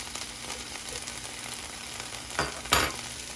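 Food sizzles steadily in a frying pan as a fork turns it over, with two brief scraping clatters of the fork against the pan near the end.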